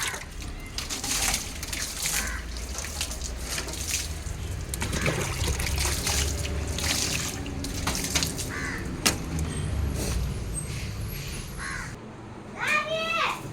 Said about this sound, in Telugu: ఇంకొకసారి అయితే వాటర్ అయితే కొట్టేస్తున్నాను